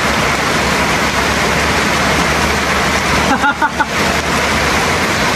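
Heavy rain pours down in a steady, dense hiss that fills the whole stretch, loud and close, with a brief burst of voices and thumps breaking through near the middle.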